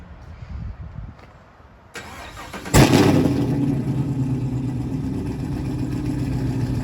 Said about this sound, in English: I'm finally getting the car back. The first initial startup.